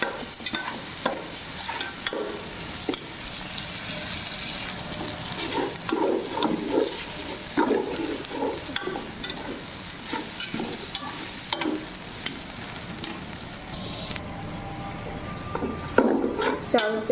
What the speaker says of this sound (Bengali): চাল কিন্তু আমার ভাজা হয়ে গেছে